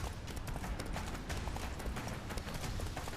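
Roach, the horse in the video game The Witcher 3: Wild Hunt, galloping with steady rapid hoofbeats over a dense, noisy background, continuous and moderately loud throughout.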